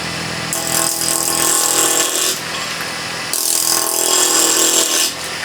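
A wood lathe turns an eccentrically mounted blank as a tool cuts into it, a loud, rough grinding and scraping in two long passes with a brief easing between them.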